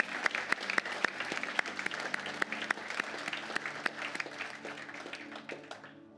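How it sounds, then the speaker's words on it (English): A church congregation at an Easter and baptism Sunday service applauds steadily, a dense wash of many hands clapping with some sharper individual claps standing out, fading toward the end. "Let's give them a round of applause."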